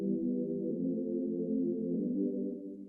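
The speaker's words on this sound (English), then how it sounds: "So the pad on its own, it sounds like this." A lone synth pad in FL Studio holds a soft, warm low-mid chord for about three seconds, steady and fairly quiet with nothing else playing.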